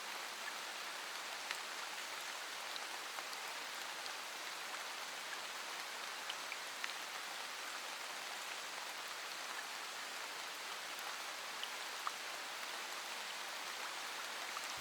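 A steady, dense downpour of rain hisses evenly throughout, close and continuous with no voices.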